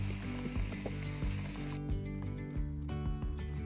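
Jalapeño turkey sears in a hot pan with a steady, loud sizzle and crackle, joined by a few knocks and scraping sounds up close, with no talking.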